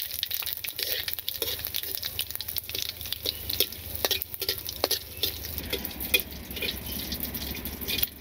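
Dried chillies fry in a pan, giving a steady close crackle with scattered pops and drips that continues throughout.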